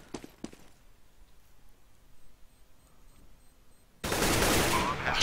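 Gunfire in a Counter-Strike match on de_mirage, with a couple of sharp shots early on, then a sudden loud burst of sustained noise in the last second, alongside a commentator's voice.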